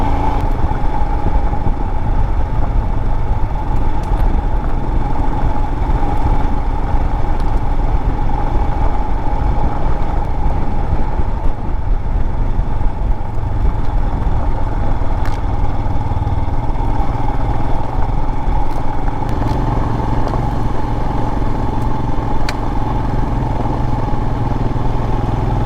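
Motorcycle engine drones steadily and loudly throughout a camping ride near the North Rim of the Grand Canyon in Arizona, with a constant mid-pitched hum and road rumble and no pauses.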